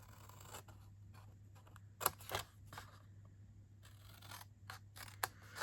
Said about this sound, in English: we're going to take the edges and cut up to each score line here